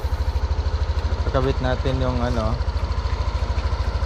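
A motorcycle engine idles close by with a steady low rumble, while a person speaks briefly over it partway through.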